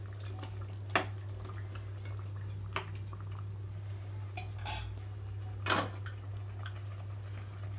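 Several sharp metallic clinks and knocks as a lid is set onto a pot of soaked rice for meal maker biryani, spaced over a steady low hum with no talk.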